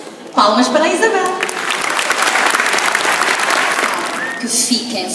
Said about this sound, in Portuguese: Palmas para a Isabel.